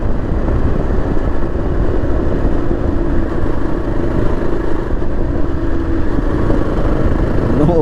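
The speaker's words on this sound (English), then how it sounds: "Now let's check the final top gear." A 2024 Yezdi Adventure motorcycle engine lugs at low speed in top gear, giving a steady, loud, rough drone with clattery texture that holds unbroken throughout, with no voices.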